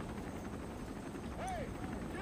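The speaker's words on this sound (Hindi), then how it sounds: "तो पाँच हेलीकॉप्टर हमें बुला रहा है, हम जा रहे ऊपर हेलीकॉप्टर के पास।" A helicopter in the video game Resident Evil 3 Remake gives a steady, close rotor drone, with a brief rising-and-falling electronic tone in the middle.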